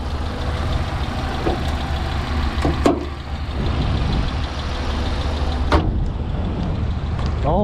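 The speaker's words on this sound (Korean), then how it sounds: "제가 이 차량 좀 시운전 해보도록 하겠습니다" The engine of a used Kia Morning runs at idle during a test drive, a steady low rumble with a couple of brief clicks and knocks over it.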